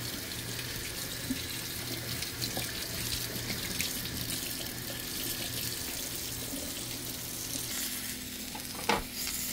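Tap water runs steadily into a sink, rinsing a dropped hot dog during dorm-style cooking, a continuous close rushing splash with a brief clunk near the end and no talking.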